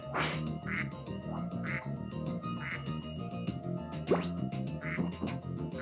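Cartoonish duck quacks from the PS1 game Spyro 2: Ripto's Rage, repeated short bursts at an irregular pace over a bouncy game music bed.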